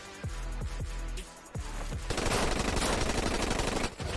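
Gunfire from the animated TV show Invincible, several booming shots followed by a dense, rapid automatic burst, loud and continuous before cutting off abruptly.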